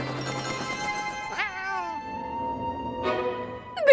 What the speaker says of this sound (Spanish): ¡Mi pobre gatita está atrapada en el árbol!